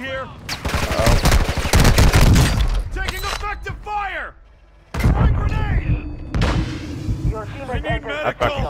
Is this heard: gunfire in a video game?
yes